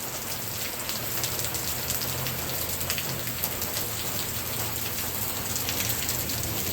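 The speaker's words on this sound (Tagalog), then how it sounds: "This rain is gonna stop for a while, I bet." Steady rain pours down outdoors, a dense even hiss of drops striking surfaces that continues without pause and without voices.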